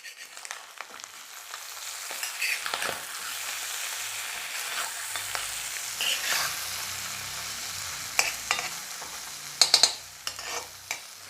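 Fish egg fry sizzling in a pan after being flipped, a steady moderate crackle with a few spatula scrapes and sharp clinks toward the end, close and with no talking.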